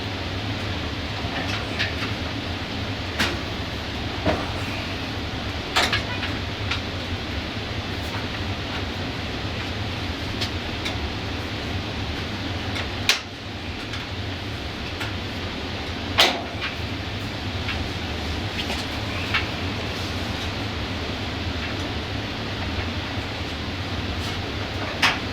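Kenmore Elite clothes dryer drum turning on newly replaced support wheels, a steady low rumble with a constant hum and occasional faint clicks and knocks throughout.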